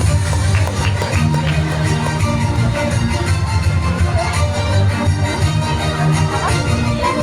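Audience applause for a class's best Quran memorization winner at a school awards ceremony, a steady dense wash of clapping held at even loudness throughout, with scattered crowd noise and no clear speech.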